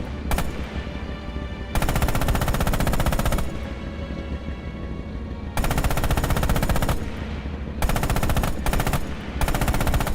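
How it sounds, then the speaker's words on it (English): Tank hull machine gun firing in the video game Red Orchestra 2, loud sustained automatic bursts of about two seconds each separated by short pauses, close and dominant. "Use the hull MG and open fire on the targets."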